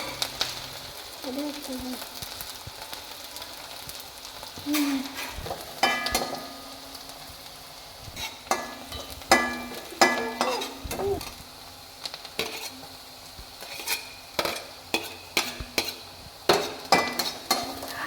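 Finely chopped shallots fry in oil in a pan, a soft sizzle under repeated clanks and scrapes from a stirring utensil, with faint talk in the background.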